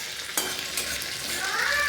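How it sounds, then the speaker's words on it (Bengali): Food frying in a pan sizzles continuously while being stirred, with a couple of sharp scrapes of the utensil against the pan, close and clear with no talk. "ভাজাগুলো সব হয়ে গেছে।"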